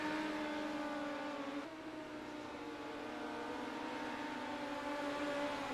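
A dirt track race car's engine runs through a qualifying lap at the Charlotte Dirt Track, holding a loud, steady droning tone with a brief dip in pitch partway through.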